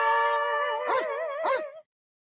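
A pet dog at home gives a long whining howl that wavers in pitch, broken by two short yelping rises near the end before cutting off abruptly; fairly quiet and heard alone.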